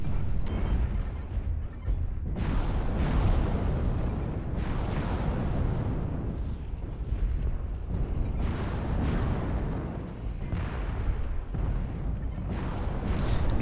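An LRM missile salvo fired from a mech in MechWarrior Online: a run of heavy, rumbling launches and booms rolling one after another for many seconds, dense and low, with no talking.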